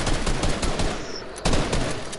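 Rapid bursts of gunfire ring out in a shooter video game, firing downward from high ground, loud and near, with a short pause before another volley.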